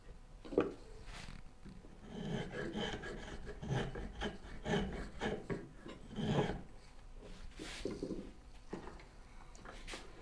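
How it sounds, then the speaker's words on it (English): Spokeshave shaping wood for a turning bow saw, a series of close, scraping rasps in uneven strokes, each a short rough shaving pass, fairly quiet with pauses between. "Looks like spoke shaves will work."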